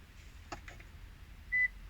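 A single short electronic beep from a Toyota sounds once during smart key programming, steady and clear, over a faint background hum with a few soft clicks before it.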